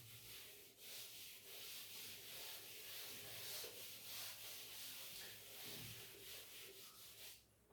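Someone rubs out writing on a board, and the eraser makes a continuous scratchy brushing that swells and fades in quick strokes for several seconds, close by and quiet, with no one talking over it.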